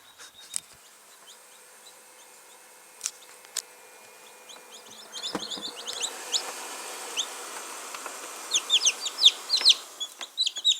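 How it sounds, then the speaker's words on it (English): High, thin peeping chirps from small newly hatched chicks, sparse at first and then quicker and denser, with faint clucking and buzzing in a quiet room. "Baby chickens."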